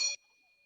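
A bell struck once with a bright metallic clang, its pure ringing tone hanging on and slowly decaying after the brief strike.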